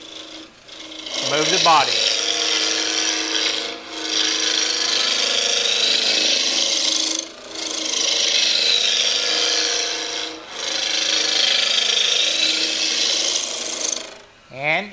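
A spindle roughing gouge cuts wood on a lathe in long, loud, steady rasping passes broken by short pauses, with a brief voice heard between cuts.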